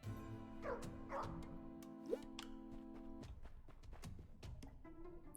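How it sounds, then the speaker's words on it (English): A dog in a video game gives a few soft yips and little barks while it is petted, heard close over a steady game music bed, with a faint click or drip partway through. "We're gonna pet the doggy."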